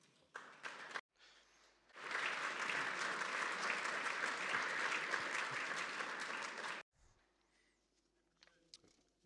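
An audience applauds a mathematician at a panel on Lyndon LaRouche: a brief patter of claps, a short pause, then a loud, sustained burst of applause for about five seconds that stops abruptly, followed by quiet room noise.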